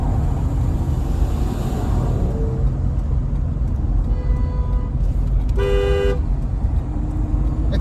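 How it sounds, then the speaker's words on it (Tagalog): Several car horns honk amid steady traffic rumble on a busy road in San Jose, California: short toots early on, then a louder, sustained blast near the end, all over a constant engine drone. "nagbusina ngayon, busina mo."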